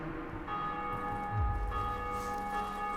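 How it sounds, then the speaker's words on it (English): A large church-style bell rings out in the Dark Souls video game after the gargoyles are slain, a sustained resonant tolling with long humming overtones over steady low ambience, moderately distant. "if you hear that bell ringing, that means that somebody else has killed the gargoyles, and they sounded the bell"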